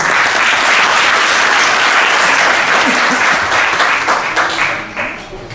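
Loud, dense audience applause at a short film festival gala in İnegöl, honoring doctors, sustained for several seconds before tapering off at the end.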